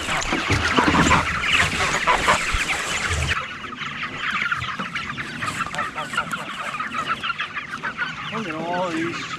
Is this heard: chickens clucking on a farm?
yes